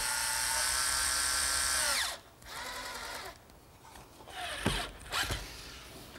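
A power drill drives treated screws into a redwood bench, a loud steady whir for about two seconds that winds down, followed by quieter scraping and a couple of short bursts.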